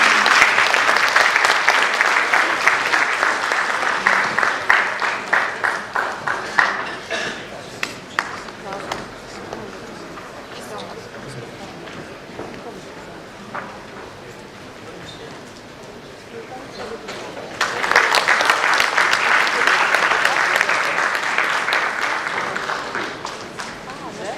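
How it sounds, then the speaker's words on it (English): Applause from the audience at a travel trade event, a loud burst of clapping that thins into scattered claps, fades to quiet, then swells into a second strong round. "Ladies and gentlemen, a big round of applause."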